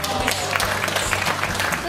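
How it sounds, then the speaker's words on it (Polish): Applause at an animated film premiere, a dense continuous patter of clapping from a crowd, loud and close, lasting under two seconds. "gorące brawa dla pana Tadeusza"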